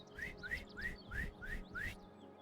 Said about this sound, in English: I'll whistle like this if it's safe to come closer.